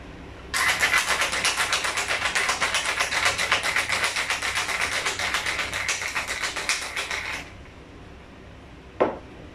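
A cocktail shaker filled with ice is shaken rapidly for about seven seconds, a steady rattling rhythm of ice striking metal, close and alone, followed by a single clink.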